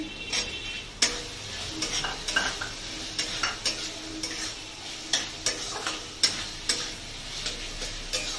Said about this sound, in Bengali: একটু কিছুক্ষণ এটাকে কষিয়ে নেবো টমেটো দেওয়ার পরে